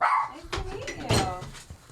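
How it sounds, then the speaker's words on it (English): A dog barks a few times close by while people talk over it, the barks coming in short bursts mixed with a brief whine. "we gotta get this dog out of here"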